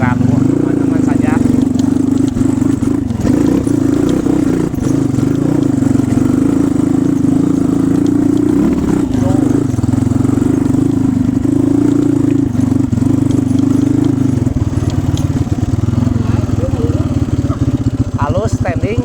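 A Honda Beat motorcycle climbing a steep rocky hill after rain: a loud, close, steady engine drone under strain with rattling clatter, heard under continuous talk.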